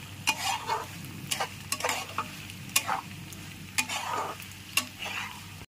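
Masala macaroni pasta with chili flakes and oregano being stirred in a pan, with repeated scraping strokes and a soft sizzle underneath, close and fairly quiet.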